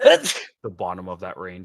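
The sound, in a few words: sneeze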